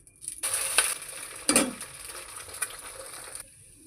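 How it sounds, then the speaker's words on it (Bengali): Two eggs hiss and sizzle in hot oil in a pan, a steady bright frying sizzle with a scraping stir midway, close and fairly loud, ending abruptly. "এবারে এই তেলের মধ্যে দুটো ডিম একটু নেড়ে চেড়ে নেব।"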